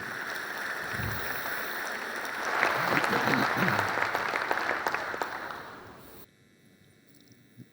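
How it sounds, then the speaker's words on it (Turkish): Applause for amateur athletes from an assembly of club members fills the room, swelling to a dense peak midway, then fading and stopping abruptly, leaving low room noise. "güzel bir alkışı da bu amatör sporcularımızın için istiyorum"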